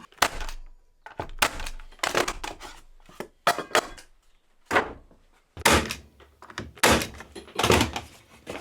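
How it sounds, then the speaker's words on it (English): A staple nail gun fires into apple crate wood, giving a rapid run of sharp, close thumps and clacks in irregular bursts, with quiet gaps between shots. "This nail gun with the staples is going to work great."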